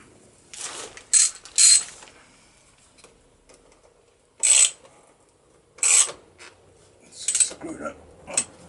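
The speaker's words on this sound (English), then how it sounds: "Screw that in." Screwdriver work fitting a starter solenoid on a Yamaha XJ750 motorcycle: several short bursts of ratcheting, scraping turns with pauses between, close and moderately loud, with faint background noise.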